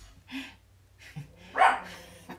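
Dogs give a few separate barks at moderate distance, a short one followed by a louder, sharper bark about a second later, with quiet breathing-like sounds between them and no talking.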